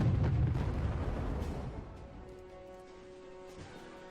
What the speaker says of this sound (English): We got another airstrike coming in. It looks like it's a bomber.